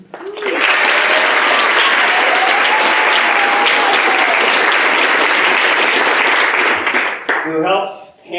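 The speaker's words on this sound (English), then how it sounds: "I personally want to thank and give a big round of applause to my assistant, the boss, Jenny Knezick." Applause from the audience at a graduation ceremony swells quickly into loud, sustained clapping, fades near the end, and a voice begins speaking as it dies away.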